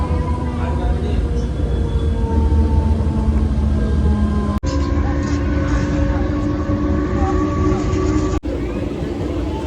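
Inside a train bound for Mumbai, a loud constant rumble and droning hum of the moving carriage with steady tonal whine, briefly cut twice, with voices in the background.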